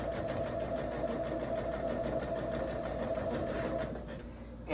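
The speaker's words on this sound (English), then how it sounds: "And I'm just going to sew this quilt top together so I can get it quilted." Close, continuous whir of a sewing machine running steadily while stitching a quilt top together, slowing slightly just before the end.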